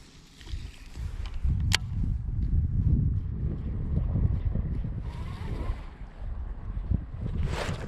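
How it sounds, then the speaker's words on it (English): Gusting wind blowing across open water during kayak fishing, a steady rushing roar with buffeting microphone noise and light water lapping near the boat, with no talking. "wind's picked up even more now"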